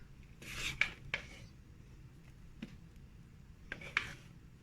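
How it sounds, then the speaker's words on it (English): A spatula scrapes and spreads meringue onto a pie in a few soft rasping strokes with light clicks against the dish, close and quiet. "Now we're going to use our spatula to get the meringue onto the pie"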